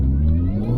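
Supercharged Mini Cooper S with a 15% pulley upgrade pulling hard, a steady deep engine drone heard from close range in a short burst of acceleration.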